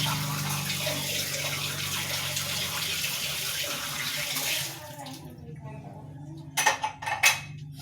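Dishes are washed under strong, high-pressure tap water, a loud continuous gush and spray that cuts off about two-thirds through, followed by a few brief clatters of dishes in the quiet, with no talk.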